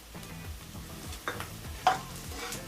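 Grated radish greens and coconut sizzle steadily in a pan while a utensil stirs and scrapes them in a few distinct strokes, close and moderately loud.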